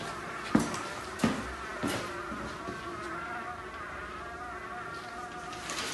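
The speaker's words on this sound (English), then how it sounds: "I put everything inside that bucket, put a lid on it, and you could hear those bees were not happy" Angry bees buzz inside a closed bucket with a lid on it, giving a dense, agitated hum with a few sharp knocks against the container.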